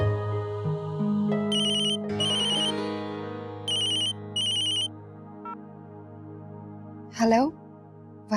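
A telephone rings for an incoming call, sounding as several short electronic ringtone bursts over a steady musical background. There is a brief sweeping tone near the end.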